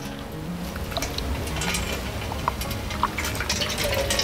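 Juice from pounded banana leaves is strained outdoors in a village, giving a continuous close splashing and trickling of liquid with scattered drips, heard alone throughout.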